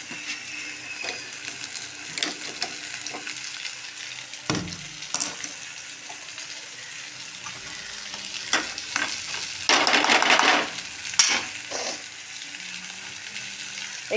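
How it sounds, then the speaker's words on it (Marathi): Eggplant steams and fries in oil in a pan, a continuous close sizzle with stirring scrapes and clinks, swelling into a louder hissing burst partway through. "थोडेसे वांगे तेलामध्ये वाफवू द्यायचे."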